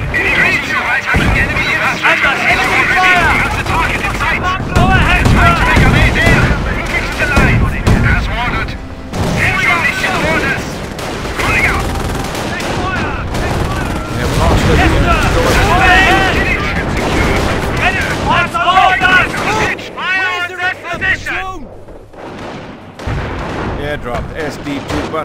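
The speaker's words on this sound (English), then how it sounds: "Taking fire! They're firing at us!" Gunfire and artillery roar through a Company of Heroes battle in an Operation Market Garden mission, with dense, continuous rattling shots and booming blasts, while voiced soldiers shout over the din.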